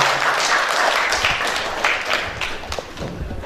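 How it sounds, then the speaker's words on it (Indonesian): Applause from an audience at an agents' gathering in a Solo hotel, a dense burst of clapping that stays loud and steady for a few seconds. "kita langsung sampai dengan tepuk tangan bersama-sama kepada beliau Bunda ini"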